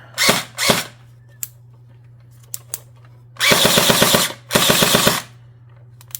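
An H&K licensed airsoft gun test fires in a few short bursts: two quick early volleys, then two longer rapid mechanical rattling strings with a clear rhythm, loud and close over a steady low hum.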